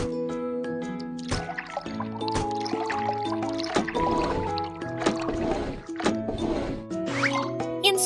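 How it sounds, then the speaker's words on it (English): Cartoon liquid pouring into a car's tank, bubbly gurgling and splashing effects layered over a bouncy children's music backing, with several distinct sloshes across the stretch. "Pour liquid into the correct tank."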